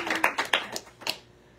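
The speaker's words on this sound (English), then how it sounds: "Everybody clap." Hands clap in a quick burst of about six sharp claps, a few people together, fading off into quiet.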